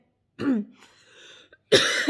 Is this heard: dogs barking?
no